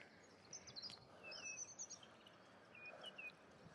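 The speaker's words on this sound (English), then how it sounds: "You can hear all the birds tweeting." Faint birds chirp and tweet in short high calls along an open stretch of old railway track on a forest nature walk, distant and sparse over soft outdoor background noise.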